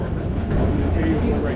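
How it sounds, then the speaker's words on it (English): An Amtrak train being shifted at a station platform rumbles and rattles continuously and close by over a short moment. "Just gotta wait for them to move the train over so I can get my baggage off"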